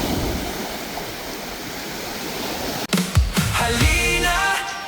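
Wind-driven sea waves wash ashore at Boracay beach, a broad roaring hiss of surf that breaks into louder splashing surges partway through, close and strong.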